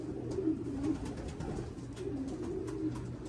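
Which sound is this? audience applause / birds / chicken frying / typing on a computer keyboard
birds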